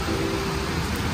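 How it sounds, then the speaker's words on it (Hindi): Steady rain falls in a village during the monsoon, an even, dense hiss of drops that fills the short clip without pause or talk. "बस इंजॉय करते हैं भाई बारिश का"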